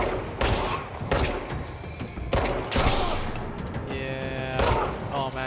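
Bursts of gunfire in the video game Control, several loud, sharp volleys and rapid shots close by, separated by brief gaps, with ringing game effects trailing the later burst.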